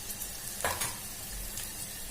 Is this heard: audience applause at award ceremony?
no